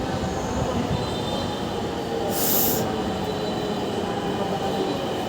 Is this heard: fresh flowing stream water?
no